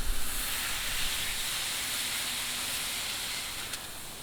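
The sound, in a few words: smash burger patty pressed sizzling on Ooni Koda 16 griddle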